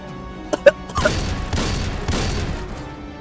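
Gunfire in a video game: a couple of sharp, quick shots, then heavier booming bursts of firing that roll on as a loud, continuous wash of noise.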